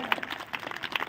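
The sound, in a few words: audience applause for the disciple on stage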